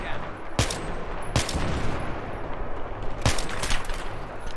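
Enemy gunfire in the video game Battlefield 3 as a rooftop firefight plays out, with three sharp, loud shots at uneven intervals standing out over a constant noisy wash of battle.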